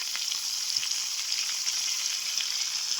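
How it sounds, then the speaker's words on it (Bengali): Goat liver frying with ground turmeric, chili, coriander and ginger paste in a pan for a chickpea lentil curry, a steady close sizzle with faint crackles throughout and no talking. "আগে কলিজাগুলো কষিয়ে নেব"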